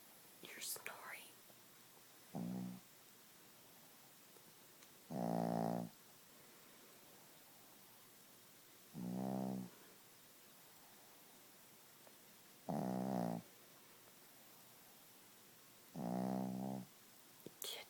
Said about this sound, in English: Gidget, you're snoring. You're snoring.